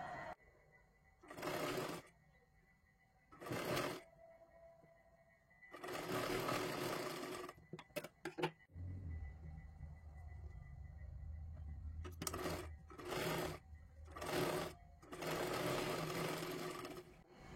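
A sewing machine stitching a katori blouse seam through layered fabric runs in short bursts of rapid whirring, some brief and some a couple of seconds long, with quiet gaps and low handling noise between them.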